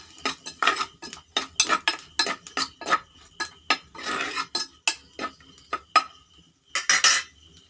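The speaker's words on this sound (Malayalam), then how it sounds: "ഇനി അടുപ്പത്തോട്ട് വെച്ച് കൊടുക്കാം ഇനി ഒന്ന് ഇളക്കി കൊടുക്കാം" A spoon scrapes and clinks repeatedly against a pot while fish curry with chopped bilimbi and green chilli is stirred, giving loud, close, rhythmic strokes with no talking.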